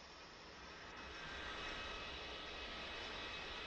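Loud, steady roar of an L-39C jet engine heard from the cockpit with the canopy open in the DCS flight simulator, a broad continuous whine and rumble that holds level from start to finish.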